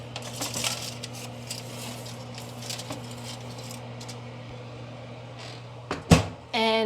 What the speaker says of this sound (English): Put the pork into the oven.